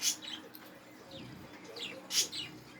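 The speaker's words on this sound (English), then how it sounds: "Tell those birds to simmer down." Birds chirp outdoors in the morning, with a few sharp high chirps near the start and end over a soft, steady background hum and some faint calls in between.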